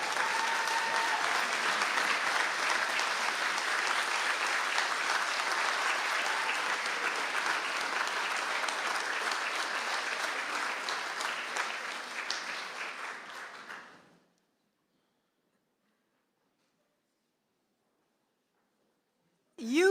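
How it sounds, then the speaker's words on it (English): Graduates at a conferring ceremony in Mayo turn to applaud their supporters, a steady, dense round of clapping that holds loud for about fourteen seconds, then tapers off and stops into silence. "give them a little round of applause"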